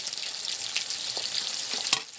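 Five-spice seeds (panch phoron) sizzle and crackle in hot oil in a kadai while being stirred, a steady close bright hiss with small pops and a sharper scrape near the end.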